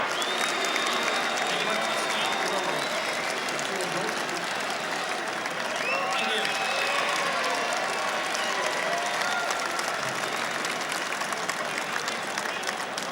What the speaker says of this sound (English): this parochial Lang Park crowd let these players know that they've really enjoyed this game of football